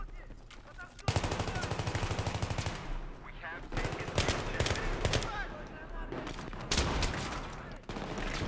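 Dense automatic rifle fire in Battlefield 3 multiplayer, loud rapid bursts and fusillades close by, with players talking over the shooting.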